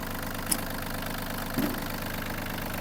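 A warmed-up Yanmar RS-27 Japanese mini tractor with a 1.5-litre engine idles steadily at close range, a constant low mechanical hum with a couple of faint clicks and no voices.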